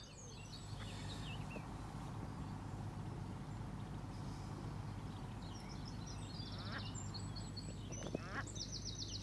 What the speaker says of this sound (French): On essaye de donner à manger au petit canard